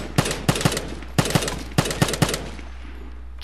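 Automatic gunfire in the video game Vigor: sharp bursts of shots in a quick, uneven rhythm, two or three rounds per burst, loud and close, with no talking.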